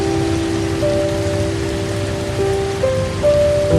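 Steady midnight rain falls in a Costa Rican rainforest around a wooden treehouse, a dense continuous hiss of drops on surfaces with faint tonal hums beneath, close and even, no voices.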